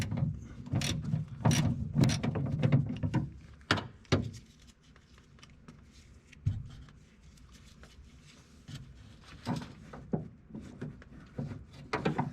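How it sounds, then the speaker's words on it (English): A 10mm socket and ratchet works the door handle bolts on a 2006-2013 Chevrolet Impala front door, with bursts of close, rapid ratchet clicks, clunks and pauses between strokes. "we're going to use our 10mm socket and ratchet"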